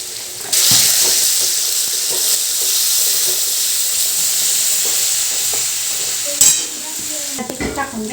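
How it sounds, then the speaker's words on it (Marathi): Coriander, ginger and garlic paste drops into a hot pan and bursts into a loud sizzle after a brief quiet start, holding steady under stirring scrapes, with a clattering knock late on. "कोथिंबीर, अद्रक, लसूणची पेस्ट टाकायची."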